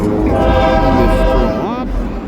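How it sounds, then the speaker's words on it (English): A freight train with tanker cars rumbles past nearby, and its horn blares loudly over the deep rolling noise before the pitch bends and the sound eases off. "we got a train coming"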